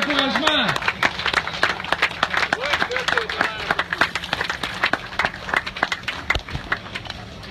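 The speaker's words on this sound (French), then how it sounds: "On les applaudit, vous pouvez y aller, les gars et les filles. Sous les applaudissements," Applause and cheering from participants at an autumn club networking event, with dense irregular clapping running throughout, voices shouting and whooping over it, and crowd talk mixed in.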